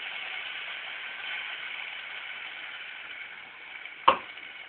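Green chilli paste goes into a pan of fried green chillies and sizzles steadily and fairly loudly, with one sharp clank of utensil on pan near the end.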